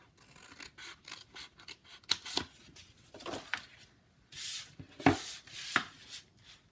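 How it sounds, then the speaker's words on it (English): Scissors snip through folded paper along a crease while a traveler's notebook insert is made, a run of quiet, close, crisp cuts and rustles in uneven bursts with brief pauses between. "You're just going to take your scissors and cut along that crease up to where you folded up against the notebook."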